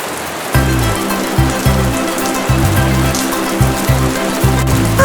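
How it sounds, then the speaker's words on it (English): Steady cartoon rain patters loudly and close, a dense continuous hiss of drops on a surface with a rhythmic low pulsing pattern under it, with no talking. "It's raining."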